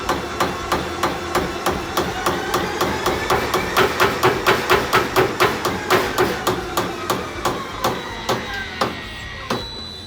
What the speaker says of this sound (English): Now you can hear the bump stop engaging.